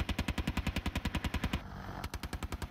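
An Apache helicopter machine gun fires in a rapid, evenly spaced burst of heavy shots, pauses briefly, then resumes with a few more rounds.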